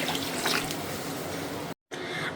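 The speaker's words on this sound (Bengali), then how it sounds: "খুদের চালটা এখন আমি দিয়ে দেবো হচ্ছে পানি একদম পারফেক্ট এবং পরিমাণ মতো পানি দিব আমি" Water poured into a pot of broken rice (khud) after the grains were fried, a steady close wash of pouring and splashing liquid that cuts out briefly near the end.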